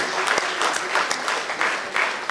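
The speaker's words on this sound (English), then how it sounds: "we should clap for them because this is entirely done by them" A crowd at the Saraswat Chamber annual conclave 2022 in Goa claps steadily, a full, close burst of applause filling the short moment with no speech over it.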